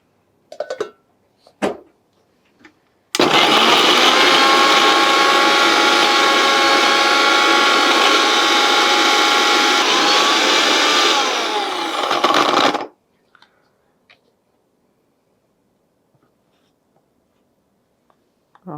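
A kitchen mixer grinder whirs loudly for about ten seconds, blending a homemade carrot face cleanser mixture, starting abruptly and cutting off cleanly, with quiet clicks and handling noise before and after.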